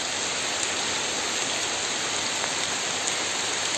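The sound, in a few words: rain falling on a mountain forest trail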